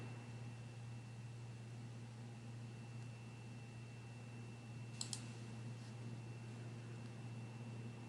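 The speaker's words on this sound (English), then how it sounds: "Click Run Program." A mouse click to run a program on a computer, a quick double click heard once, close and crisp, against a steady electrical hum and faint hiss with no talking.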